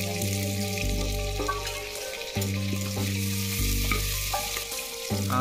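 Chopped onions hit hot oil in an earthen pot for mutton curry, giving a steady, close, loud sizzle and crackle with a low stirring rumble throughout; no talking.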